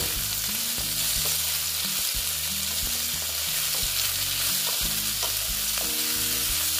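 Pieces of bitter gourd fry in hot oil in a pan, a loud continuous close sizzle with occasional stirring clicks over faint background music.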